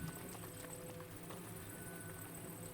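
Faint, rapid hoofbeats of a galloping horse in The Legend of Zelda: Breath of the Wild drum steadily over a low background hum, with no talking.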